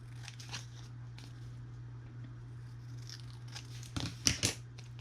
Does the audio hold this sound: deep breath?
no